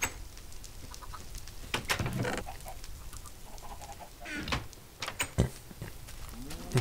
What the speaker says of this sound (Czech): já momentálně běhám po okolí, zabím slepice, který najdu